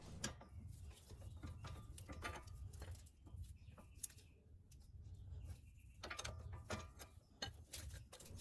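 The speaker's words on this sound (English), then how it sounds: "I decided to go with a crescent wrench since it's the quickest option I have here" Crescent wrench turning the nut on a car's sway bar end link, giving scattered metallic clicks and scraping taps in short, uneven bursts, close up against a low hum.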